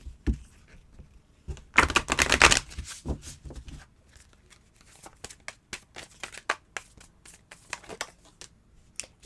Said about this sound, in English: let me shuffle a little bit maybe